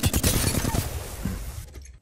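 Flatline rifle firing in Apex Legends, a dense burst of rapid automatic shots at close range, loud and continuous before cutting off abruptly near the end.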